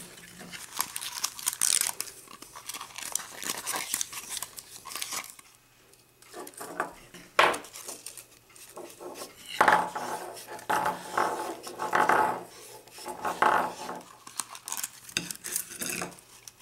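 Thin wire is wound by hand onto an AM radio coil form, giving soft, steady scraping and rustling up close, with occasional brighter clinks and no talk.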